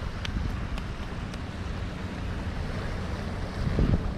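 Incoming tide waves washing up at Sembawang Beach, with a steady broadband surf wash and wind rumble throughout and a slightly stronger surge near the end.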